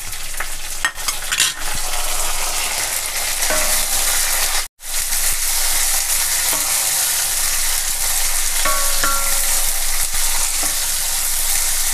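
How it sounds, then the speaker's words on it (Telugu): Small dried fish frying in oil with coriander for a gongura curry, a loud, dense, close sizzle running steadily with a few light stirring clinks and one brief dropout. "ఈ మెత్తలు కొంచెం చక్కగా ఎర్రగా వేగేదాకా మనం నూనెలో వేపుకోవాలి."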